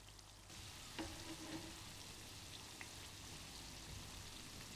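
Cooking oil sizzles and crackles steadily in a deep-sided sauté pan over medium-low heat, a soft continuous hiss with a few brief clinks and pops, no voices.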